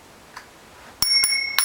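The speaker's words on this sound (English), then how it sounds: "Can you make it ring? Like a ring bell." Two to three sharp metallic rings of a bicycle bell on a child's bike, close and bright with short ringing decay, after a moment of near silence.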